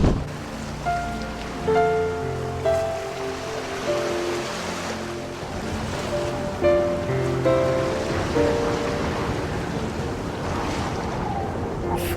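Heavy rain and gusting wind on the cliff path at Lizard Point, Cornwall, a dense continuous roar of rain and wind buffeting, loud and close, with scattered thumps and no talk.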